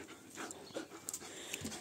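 A Czechoslovakian wolfdog pants close by, quick breathy huffs in an uneven rhythm, fairly quiet, with a few faint squeaks and rustles around it.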